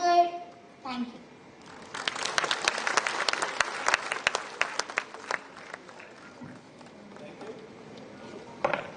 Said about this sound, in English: A big round of applause to all Kashish